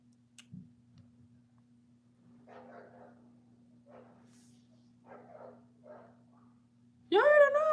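Dogs bark in a home: muffled yaps come from a distance at intervals, then one loud, close, drawn-out bark or howl at the very end.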